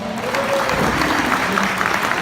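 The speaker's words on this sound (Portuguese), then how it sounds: "O pessoal dá uma salva de palmas." A sales seminar crowd gives a short, loud round of applause, steady dense clapping with a faint voice underneath.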